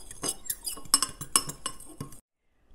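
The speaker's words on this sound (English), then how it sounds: "Then just take a fork and mix it together" A fork clinks and scrapes rapidly against a bowl while stirring sugar, all-purpose flour and baking powder together, a steady run of bright metallic taps that stops abruptly into silence.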